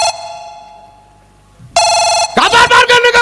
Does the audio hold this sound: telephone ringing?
yes